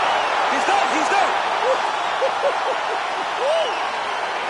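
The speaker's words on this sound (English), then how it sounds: "Crowd is absolutely loving it." Arena crowd in the UFC 2024 video game roars after a knockout, a loud steady wall of cheering and applause that fills the whole stretch with rising and falling swells.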